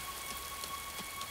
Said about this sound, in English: That's more than a little rain.